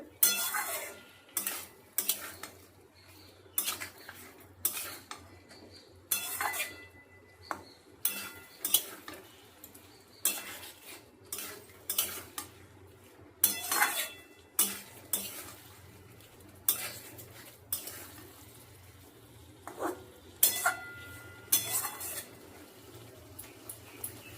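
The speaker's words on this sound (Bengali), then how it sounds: "মশলার সঙ্গে হলুদ দিয়ে টমেটোটা দিয়ে আলুটা ভালো করে কষিয়ে নেব।" Potatoes and tomato with turmeric and spices are stirred in a pan, a utensil scraping and clinking against the metal in a regular rhythm of sharp strokes over a faint sizzle.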